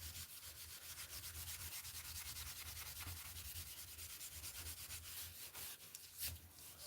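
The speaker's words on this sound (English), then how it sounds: "people like watching me sand knife blades for some reason" Steady abrasive rasping of sandpaper scrubbing rust off a steel knife blade, continuous back-and-forth rubbing held close and fairly loud, with no talking.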